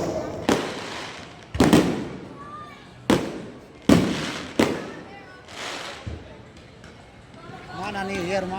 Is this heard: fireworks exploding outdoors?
yes